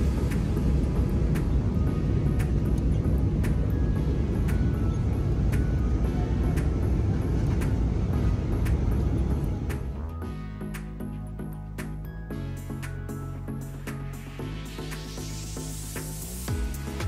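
Inside a Jetstar A320 cabin on a turbulent descent into Sydney, a loud broadband rush of air and engine roar fills the first half, then drops to a lower steady hum with faint clicks and rattles.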